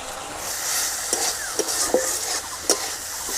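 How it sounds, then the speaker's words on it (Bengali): Turmeric, salt and cumin spices sauté in a pan for a Bengali drumstick-flower dish, giving a steady soft sizzle with a few sharp spoon scrapes and taps against the pan, close and alone without talk. "ভালো করে কষিয়ে নেবো দু তিন মিনিট মতো বন্ধুরা মশলাটাকে কষিয়ে নিয়েছি"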